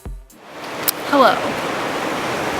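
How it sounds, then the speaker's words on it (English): A river at Bull Canyon Provincial Park near Alexis Creek gives off a steady broadband rush of flowing water. A brief voice sounds at the start, followed by a short squeaky chirp midway. "I am admiring this river"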